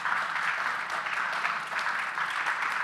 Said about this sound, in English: so I would ask you for a big applause to all of my fantastic guests